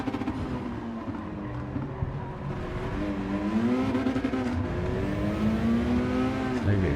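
A race car engine in a racing video game whines and rises in pitch, falling back and climbing again as it accelerates. The sound is loud and continuous throughout.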